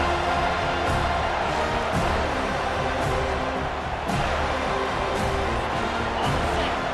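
A home crowd at a football game roaring steadily as the defense faces third down, a dense continuous wall of stadium noise with faint commentary underneath.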